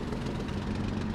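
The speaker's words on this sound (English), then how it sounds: "We're just going to run up the engine and make sure that everything is as it should be." A simulated Messerschmitt Bf 109 G-6 engine running up in Microsoft Flight Simulator, a steady heavy low drone with a dense rumbling throb, continuous and close with no talking.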